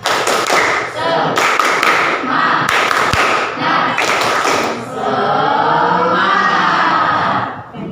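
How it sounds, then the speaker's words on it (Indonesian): Classroom of seventh-grade students performing a rhythmic spirit clap on a teacher's cue, several bursts of sharp patterned claps and thumps, followed by loud excited children's shouting and cheering. "guru cek dulu dengan tepuk semangat. Tepuk semangat."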